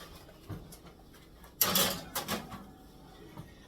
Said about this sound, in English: Put them in the oven.